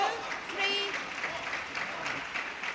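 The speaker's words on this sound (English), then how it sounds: "Big crowd here in the Yoyogi Stadium" Big crowd applauding at a table tennis world championship team match in Yoyogi Stadium, a sustained wash of clapping with a commentator's voice over it.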